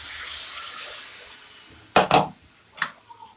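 Lentils tipped into a pan of cauliflower curry with red-fried cumin, two quick sloshing splashes followed by a smaller third pour, close and fairly loud over a quiet kitchen hiss.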